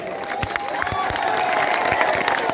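Crowd at a Tipra Motha political rally applauding and cheering, a steady wash of clapping with scattered shouts, fairly close and filling the whole moment.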